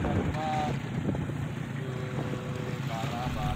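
Strong wind and high waves at sea off Karangasem, Bali, in bad weather: a loud, constant roar of gusting wind and surging water with rumbling buffeting close to the microphone, while a voice speaks faintly beneath.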